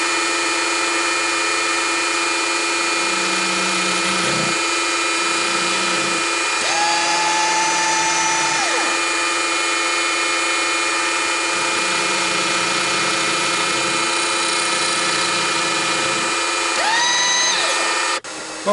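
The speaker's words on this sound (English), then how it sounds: "we're going to use the tri-fly cutter again and just bring them down, skim them down to where they're both the same dimension" A metal shaper with a tri-fly cutter skims two parts down to the same dimension, giving a steady mechanical hum with tonal whines and brief surges as the stroke cycles.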